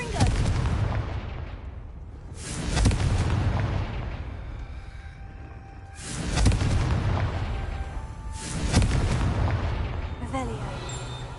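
Fire-blast spell explosions in Hogwarts Legacy: three heavy booming bursts spaced a few seconds apart, each swelling loud and then rumbling away, with a voice talking over the noise.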